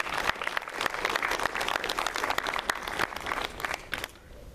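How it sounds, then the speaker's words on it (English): Applause at a Long Beach city council general meeting, a room of attendees clapping steadily for several seconds before it thins and fades out near the end. "Let's give them a round of applause for all their hard work"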